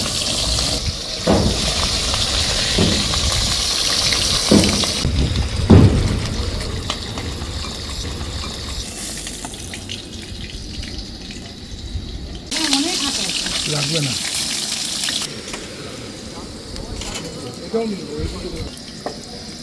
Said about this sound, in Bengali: তেল গরম হয়ে গেছে, মাছ ছাড়বে